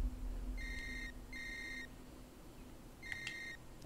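A phone rings in the video game Who is Abby, sounding as three bright electronic ringing bursts with short gaps between them, fairly quiet over a faint background hum.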